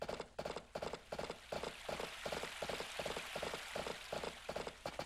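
Rain patters steadily on surfaces in the farming game Harvest Moon: Another Wonderful Life, with a rhythmic, regular tapping pattern running continuously throughout.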